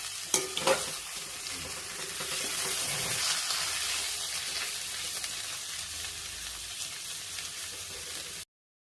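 Potato filling for vegetable chops is stirred and fried in a pan, giving a steady close sizzle with scraping stirs throughout before it cuts off abruptly near the end.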